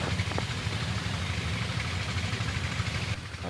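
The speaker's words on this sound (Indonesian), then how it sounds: "Karena kan ada suara mesin" Engine running somewhere outdoors as a steady low rumble that stays even and moderately loud all the way through, with no speech.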